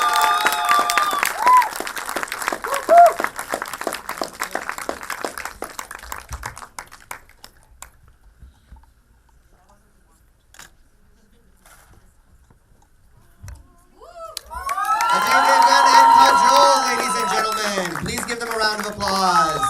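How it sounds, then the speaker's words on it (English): Audience applause and cheering at a film press conference, clapping and voices mixed with a speaker at first, fading to near silence, then a louder burst of crowd noise with excited shouts near the end. "Round of applause."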